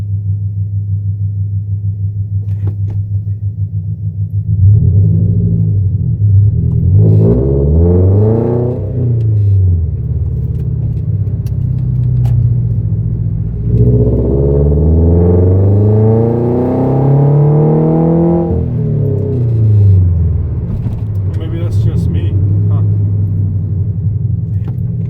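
A Toyota FRS, just repaired from limp mode, accelerates in two strong pulls, its engine note sweeping up through the revs and dropping back between them over a steady low road rumble, close and loud.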